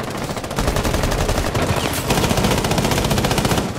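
Rapid automatic gunfire in a competitive video game match, loud and nearly continuous, with tightly spaced shots hammering away for several seconds as a player is hit from two directions.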